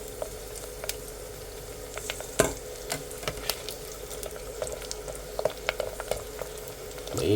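Pork rind chicharon frying in hot oil, a steady close sizzle with scattered sharp pops and crackles throughout.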